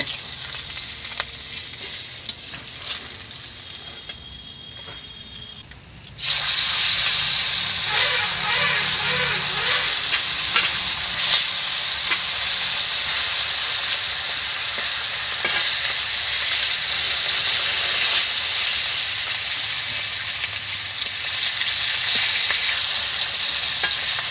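Fish sizzle loudly in oil on an outdoor clay stove. After quieter rustling and handling at the start, a dense frying hiss swells and carries on steadily with occasional crackles.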